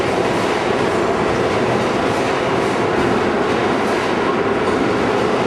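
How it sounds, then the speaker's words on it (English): Loud, continuous rumble of a New York City subway train in motion in Brooklyn, with wheel clatter and roar filling the space and no voices. "Number 3 is the subway."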